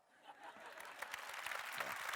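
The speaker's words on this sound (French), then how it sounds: "on a pour coutume de se faire applaudir avant" Applause from a congress audience swells from faint to a fuller, steady clatter of many hands clapping, with some voices murmuring in the crowd.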